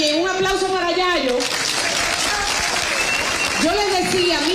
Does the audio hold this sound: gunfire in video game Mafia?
no